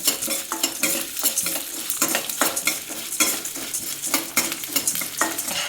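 Fenugreek seeds frying in a pan for homemade vangibath masala, a close crackling sizzle broken by repeated scraping strokes of a spoon against the metal, with no talking.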